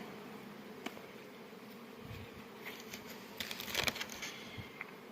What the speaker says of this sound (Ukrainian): бджола йде на акацію